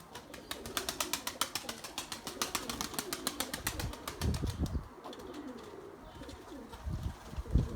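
Erzurum white breeding pigeons coo inside a coop in a steady run of close, rhythmic throaty pulses, which give way to softer rustling and a few brief flutters.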